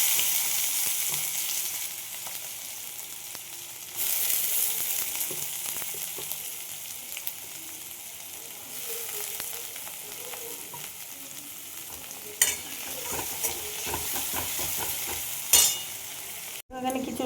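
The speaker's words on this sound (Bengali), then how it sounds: "ফোড়নটা হয়ে গেছে, আমি দিয়ে দেবো পেঁয়াজ।" Onions sizzle and fry in hot spice-tempered oil, a steady close hiss with occasional bursts and stirring scrapes throughout, no talking.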